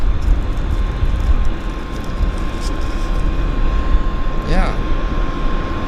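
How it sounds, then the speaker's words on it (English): A China Southern airliner taxis at Vancouver airport, a steady loud engine rumble and hum with a high tone, heard close while people talk over it. "we've got China Southern is taxiing out"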